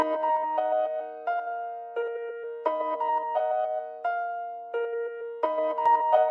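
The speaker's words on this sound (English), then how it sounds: "I put back mask, which is a reverse plugin. It reverses the melody." A dark piano melody, reversed by a reverse plugin in FL Studio 21, plays as swelling notes that fade in and cut off. The step-like phrases are clear and close, with no voice over them.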